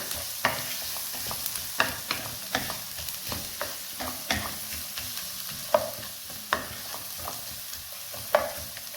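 Chopped onions are stirred and mixed in a frying pan for fried rice, with steady soft sizzling under repeated rhythmic spatula scrapes and taps against the pan.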